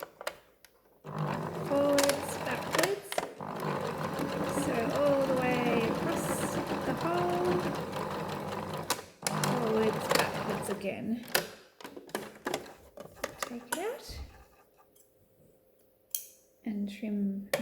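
A sewing machine stitches across a fabric scrunchie in one long, steady whirring run of about eight seconds, then a shorter run, with a voice heard at moments.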